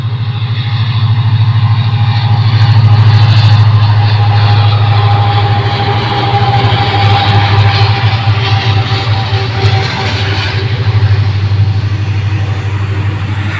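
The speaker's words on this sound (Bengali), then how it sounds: "এই সামনে কিন্তু মালগাড়ি আসছে।" A goods train hauled by a diesel locomotive passing a railway crossing at around 70 km/h, a loud, steady engine drone and low rumble that holds close throughout.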